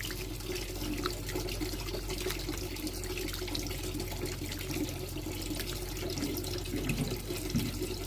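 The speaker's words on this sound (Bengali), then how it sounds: "ওর মাংসটা ধুচ্ছি এখন।" Tap water runs steadily into a sink while raw meat is washed under it, a constant close splashing rush with small drips and no talking.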